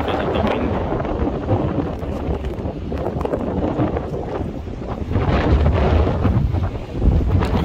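Strong wind at Chaloklum Beach on Koh Phangan, where kitesurfers ride, buffeting the microphone in a loud continuous roar that gusts harder toward the end.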